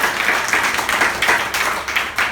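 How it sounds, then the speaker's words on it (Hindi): Schoolchildren in a classroom clap for their teacher, a dense burst of many small hands in quick uneven rhythm, close and steady for a couple of seconds with no talking. "सर के लिए ताली बजा दो"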